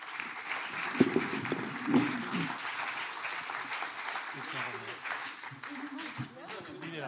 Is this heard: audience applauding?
yes